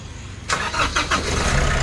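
A Nissan NV350 van engine cranks and catches abruptly, then settles into a loud, rough idle close by, with rhythmic surges as it starts.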